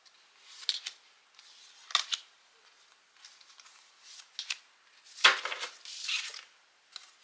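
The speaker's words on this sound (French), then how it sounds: "Alors, on y va pour 4 cartes." Oracle cards being drawn and laid out one by one for a four-card reading, with soft papery shuffles, slides and light snaps of card stock, quiet and close with pauses in between and no talking.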